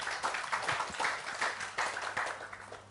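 A small seminar audience claps steadily, the applause fairly faint and heard without talking.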